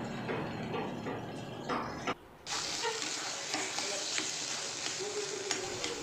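Kochu shak, taro leaves, sautéing in a pan for a Bengali dish with ilish fish head, a soft hiss and sizzle that cuts out briefly, then returns brighter and steadier, with faint stirring.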